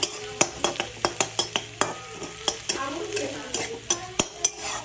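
Food sizzles in a frying pan with a steady hiss, broken by a quick run of sharp utensil taps and scrapes against the pan. The sound is close and fairly loud, with no talking.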